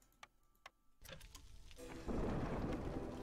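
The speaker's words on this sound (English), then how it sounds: "So, next storm season is upon us." A thunderstorm in the video game Against the Storm: a few sharp ticks give way to rumbling thunder and then a steady, loud downpour of rain that swells and keeps going, with no talking.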